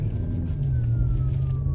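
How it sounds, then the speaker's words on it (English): A siren wails with a slowly falling tone over a steady low traffic rumble, heard from a distance for a couple of seconds. "All these sirens and stuff"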